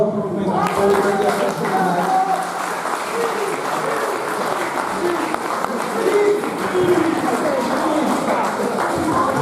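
An audience at a Sardinian folk singing event in Orune breaks into sustained, loud applause. Thick clapping fills the whole stretch, with a voice talking over it.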